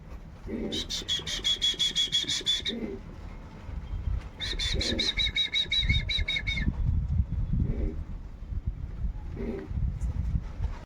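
Pigeons flapping their wings in two bursts of rapid fluttering, with low coos and a faint voice in the background, close by.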